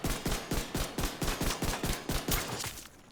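Pistol shots fired at a slow, steady rhythm in The Division 2, about a dozen sharp, loud reports evenly spaced roughly a quarter second apart, close and clear with no talking, ending in a brief quiet tail.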